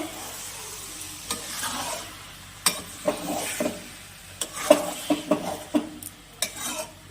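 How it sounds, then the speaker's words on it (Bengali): Lote shutki (Bombay duck) chorchori stirred in a pan, a low sizzle broken by a series of irregular spatula scrapes and clanks against the metal, close and without talking. "এবার ভালো করে নাড়াচাড়া করে"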